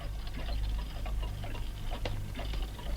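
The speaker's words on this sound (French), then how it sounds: "venez voir cette horloge" A clock ticks steadily and close by in a room full of clocks, its regular sharp ticks sitting over a low, constant hum with no voices.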